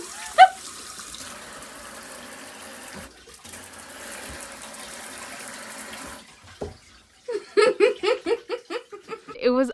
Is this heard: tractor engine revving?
no